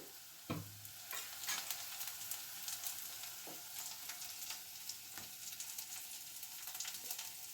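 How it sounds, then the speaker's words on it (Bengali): Onions sizzle steadily in a hot pan, frying until lightly browned, with a soft hiss throughout and occasional scrapes and clicks of stirring. "এই পেঁয়াজটাকে একটুখানি হালকা লাল করে ভেজে নেব"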